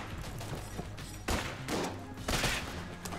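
Piercing shots fire in the video game Enter the Gungeon, a rapid stream of gunfire with several louder bursts over a busy background of game sounds.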